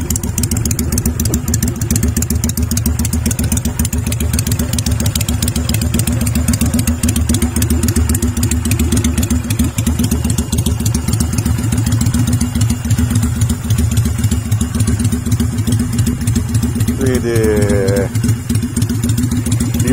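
A custom Kaisar Ruby 250 bobber motorcycle with a free-flow exhaust and no baffle idles loudly and steadily close by, with a rough, uneven burble and a brief rev near the end.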